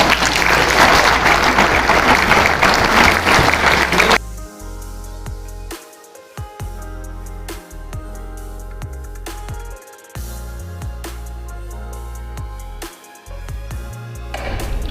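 An audience at a banking-sector meeting claps loudly for about four seconds before the applause cuts off abruptly.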